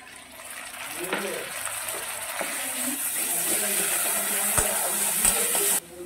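Ground cumin, ginger and green chilli paste sizzles and fries in a hot pan for chana masala, a steady close hiss with a few sharp crackles and clinks, with faint talk in the background.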